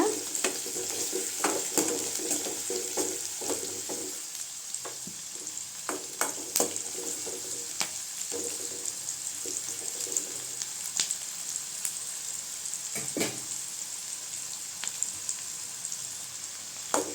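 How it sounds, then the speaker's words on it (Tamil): Onions sautéing in a pan for a Tamil-style siru keerai (spinach) stir-fry: a steady bright sizzle runs throughout, broken by sharp clinks and scrapes as a spatula stirs the pan, with no talking. "இப்போ வெங்காயம் சேர்த்துக்கலாம் வெங்காயம் நல்லா வதங்கிட்டுங்க"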